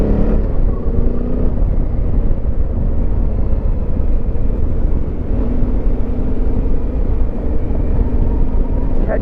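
Off-road vehicle driving on a Flinders Ranges trip, its brakes struggling to stop it outside off-road mode; a steady, loud engine and road rumble runs throughout with no clear pauses.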